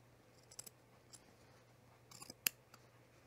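Scissors cut through the layered fabric of a puffer vest, a few faint, quiet snips spaced apart, with a sharper click near the end in a hushed room.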